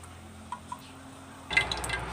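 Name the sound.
scooping stewed pork out of broth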